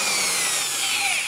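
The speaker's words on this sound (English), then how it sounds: "get in the box sill and drill a hole for our lines to go through" Power drill boring a hole through a wooden box sill in a house during a central air conditioning install, a loud continuous high whine and grinding, close up, with no talk.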